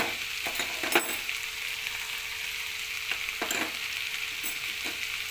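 Ivy gourd curry with green chillies frying in a pan, a continuous close sizzle broken by several clattering stirs and scrapes of a spoon against the pan as everything is mixed; no speech.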